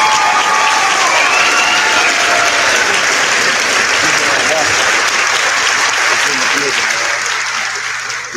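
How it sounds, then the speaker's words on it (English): Loud, dense audience applause fills the room to welcome a guest on a talk show, sustained and even before tapering slightly at the end, with a few cheers mixed into the crowd noise. "Let's give him a round of applause."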